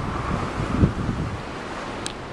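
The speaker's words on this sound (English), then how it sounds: "But the surf is well up." Ocean surf and steady wind on the beach at Warwick Long Bay, Bermuda, a day and a half before Hurricane Igor, a continuous broad rushing roar of waves with wind buffeting the microphone.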